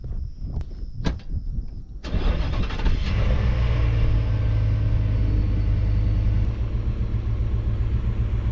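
A pickup truck on Goodyear UltraTerrain all-terrain tires starts up and pulls away, its engine rumbling loud and close, then settling into a steady driving drone with road and tire noise.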